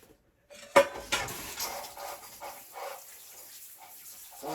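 A small bowl clinks and knocks against a kitchen counter in a sharp initial impact, followed by a few softer ceramic taps and scraping handling sounds close by.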